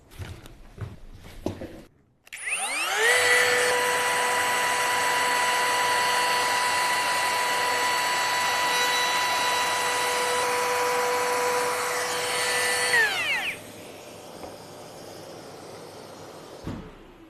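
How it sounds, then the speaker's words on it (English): Close and loud, a cordless Bosch 18V edge trimmer fitted with a 6mm roundover bit and dust extraction whines at steady high speed for about ten seconds, then spins down. "we're all set up with a 6mm roundover bit and the dust extraction for edge routing"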